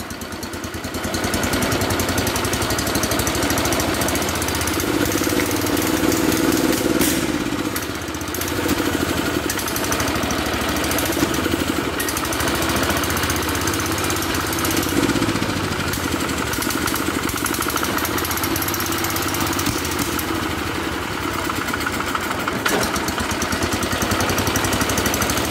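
An old engine runs and idles steadily after being started, a loud, rough, continuous mechanical drone that holds for the whole stretch, close by and with no voices.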